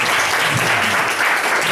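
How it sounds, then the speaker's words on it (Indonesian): Audience applause for Pak Rocky at an announcement event, a dense, loud, steady wash of clapping throughout. "Oke, aplaus untuk Pak Rocky."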